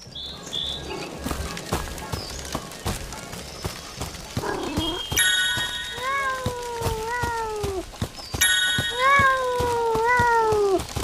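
A cat in the video game Sir Whoopass: Immortal Death meows loudly in two drawn-out, wavering bursts, over clicking, clattering game sounds.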